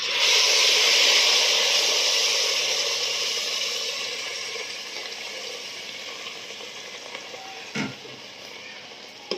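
Hot water poured into sizzling mutton head curry, a loud hissing sizzle that slowly softens into a steady bubbling simmer, with a brief clank of a pot near the end and no talk.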